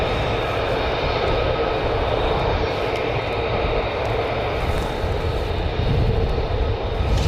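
Military jet aircraft on approach to land at RAF Lakenheath in gusty wind, a sustained loud engine roar with rumbling wind buffeting close to the microphone.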